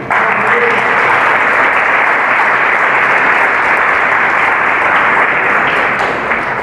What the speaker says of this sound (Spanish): Damos aplausos al Señor.